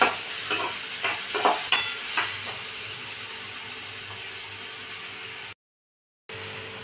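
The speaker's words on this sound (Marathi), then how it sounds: "कांदा थोडा भाजून घ्यायचा।" Onion softens in a hot pan for an okra curry, giving a loud steady sizzle with brisk scraping stirs near the start, then an even fry before a short gap of silence.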